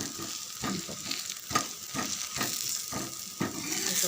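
Rava wheat dosa sizzles steadily in a hot pan, with soft scraping strokes as it is flipped, the frying hiss continuous and close with no talk.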